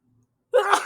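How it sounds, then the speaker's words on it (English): A single sharp human sneeze bursts suddenly after near silence, close and loud. "sorry, I had to sneeze."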